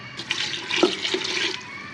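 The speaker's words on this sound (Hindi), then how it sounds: "मैं डालूंगी अब पानी" Water pours steadily into a cooking pot on a home stove after spices, chilies and coriander have been sautéed, a close splashing gush lasting under two seconds.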